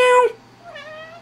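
A house cat lets out a short close meow followed by a softer second mew, with no other sound.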